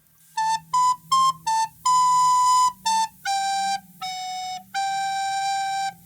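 A solo recorder plays the second line of Deck the Halls, nine breathy detached notes. Four are quick, then one is held, and the phrase ends on a long note. It is close and clean, with no voices.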